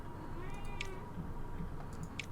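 A house cat meows a couple of times in short, rising cries, fairly close, over a steady low background hum, with no one talking.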